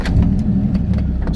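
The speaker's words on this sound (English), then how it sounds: "I'm out driving the Viper today" A Dodge Viper's engine as the car pulls away, a loud, close low-pitched rumble with rhythmic throbbing pulses that hold steady over the short moment.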